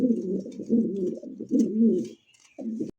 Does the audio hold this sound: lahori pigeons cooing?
yes